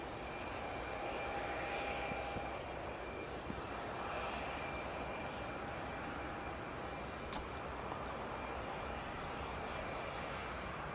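An airliner from the United Arab Emirates at Newcastle Airport produces a steady, faint engine roar heard from a distance, sustained evenly with a thin whine on top throughout.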